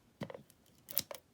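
Scissors trimming die-cut paper foliage for a handmade card, two quick close snips a little under a second apart, crisp and quiet against near silence.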